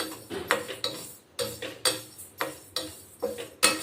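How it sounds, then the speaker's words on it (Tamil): Black urad dal dry roasting in a pan: a utensil knocks and scrapes against the metal in steady, repeated strokes, each one a sharp clack that fades quickly. The sound is close and moderately quiet, with no speech. "இதை நல்லா வாசனை வர வரைக்கும் நம்ம இப்போ வறுத்துக்கலாம்"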